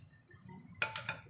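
A lid goes onto a cooking pot of pork soup with a sharp metallic clink and a couple of lighter rattling taps, over low background hum.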